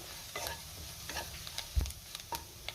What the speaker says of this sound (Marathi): पुन्हा सगळं व्यवस्थित मिक्स करून घेऊया